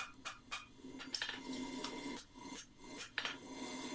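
Rasp filing along the edge of a shoe front being tidied, short scraping strokes in an irregular rhythm, close and fairly quiet, with a few light knocks between passes.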